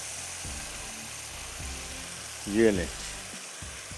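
Kashmiri chilli frying with whisked yogurt for maash daal, a steady sizzle with a brief louder hiss midway and a short spoken phrase over the frying.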